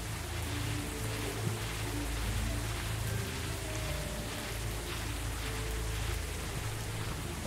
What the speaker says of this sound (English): Alright, stop raining already.